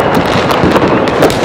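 Rapid, loud crackling bursts of rockets firing in quick succession during the traditional rocket war on Chios, Greece, a dense barrage of sharp pops and hissing launches.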